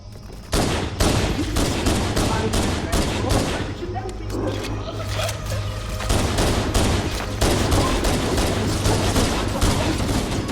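Rapid, loud gunfire in the video game Halo CE with pistol and shotgun, a dense string of shots running almost without pause, a voice talking over it.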